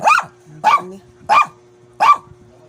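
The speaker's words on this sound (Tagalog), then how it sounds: "Andiyan kasi yung mga aso ni Joe kanina eh" Dogs bark close by in a run of four loud, evenly spaced barks, with a low steady hum in the background and no talking.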